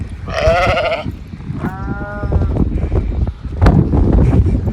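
Sheep bleat outdoors in hilly country, two clear calls close by, the first loud and wavering, the second shorter, over steady wind noise and rustling.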